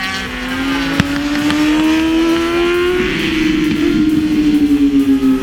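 A high-revving racing motorcycle screams past up close at a WERA race at Talladega Grand Prix, its engine pitch rising and wavering, ending in rapid stuttering pulses as traction control cuts power in and out.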